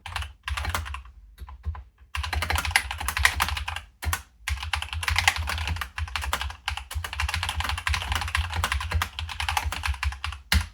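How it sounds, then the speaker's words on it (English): Loud, rapid clacking of a Logitech G PRO X TKL mechanical gaming keyboard being typed on, close up, in bursts with a couple of short pauses. "This keyboard seems very, very loud"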